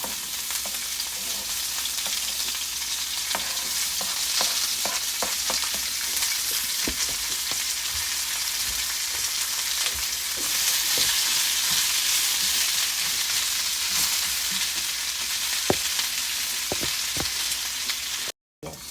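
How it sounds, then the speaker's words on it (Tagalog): Shrimp sauté in a hot pan for sotanghon noodles, giving a loud, constant sizzle with scattered clicks and scrapes of stirring, then a brief dropout near the end. "Hipon naman natin ang bibisa. Igisa."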